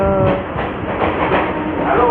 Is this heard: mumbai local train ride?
yes